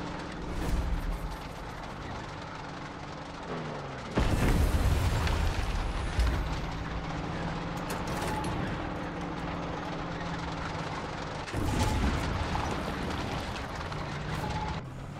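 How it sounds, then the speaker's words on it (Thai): Explosions and heavy booms from tank cannon fire in the video game Far Cry 6, with loud broadband blasts around four and twelve seconds over continuous rumbling battle noise and vehicle engine drone. "ระหว่างทางเดี๋ยวผมจะยิงศัตรูเล่นขำๆนะฮะ"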